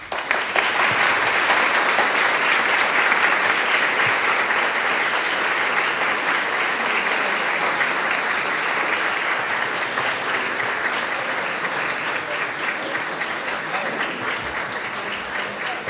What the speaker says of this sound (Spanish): Ahora sí se merece el aplauso